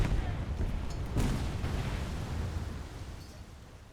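Heavy naval gunfire from French warships of 1916 to 1930 in War Thunder, a dense run of rumbling cannon booms and blasts that fades slightly toward the end, with a voice talking faintly underneath.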